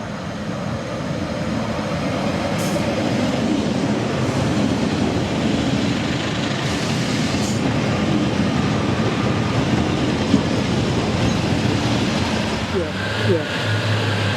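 A train on the South Fylde railway line rumbles past with a steady, loud roar that lasts throughout, and a voice talks faintly over it.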